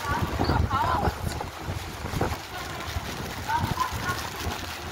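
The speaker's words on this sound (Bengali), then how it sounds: "বৃষ্টি কিন্তু খুব একটা হচ্ছে না, শুধু হাওয়া হচ্ছে" Steady wind blowing beside a swollen, fast-flowing river in Rishikesh on a rainy day, a constant broadband rush with gusty swells, and faint voices talking in the background.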